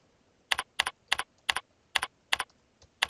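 Computer keyboard keys tapped in seven quick, crisp bursts spaced evenly apart, close and clear against near silence.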